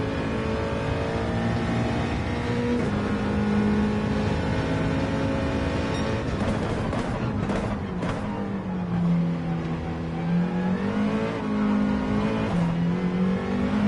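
A race car engine pulls hard in first gear in a video game, a loud, continuous whine with pitch rising and dipping as revs climb and fall, no talk over it.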